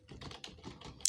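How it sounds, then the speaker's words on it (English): Rapid typing on a computer keyboard while coding in C, a steady run of close, crisp key clicks with uneven rhythm and one sharper strike near the end. "what is wrong with my typing?"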